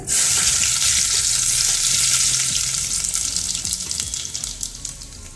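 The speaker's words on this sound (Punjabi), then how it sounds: "ਜੀਰਾ ਭੁੰਨ ਹੋ ਗਿਆ ਨਾਲ ਪਾ ਦਾਂਗੇ ਆਪਾਂ ਲਸਣ" Garlic drops into hot oil with roasted cumin for an eggplant bharta, setting off a loud, hissing sizzle that starts strong and gradually settles down.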